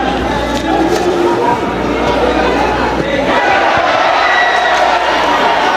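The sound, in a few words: crowd cheering at school football match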